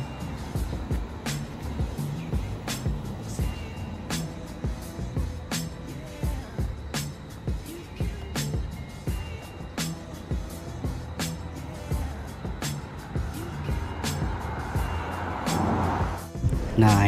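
Late-afternoon street ambience in the city centre of Brunei Darussalam near a bus terminal, with a steady low rumble of car and vehicle traffic, regular sharp clicking or ticking at even intervals, and a louder vehicle rising near the end.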